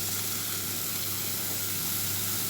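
Masala frying in a pan for paneer masala dosa, with paneer cubes just added, gives a steady, close, loud sizzle and hiss with no voices.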